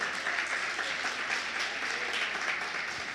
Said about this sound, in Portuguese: Aplausos para o Senhor, porque Ele merece